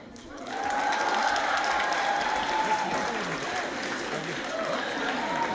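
Concert audience applause at a cover band show, a steady wash of clapping that rises quickly and holds with some cheering voices mixed in.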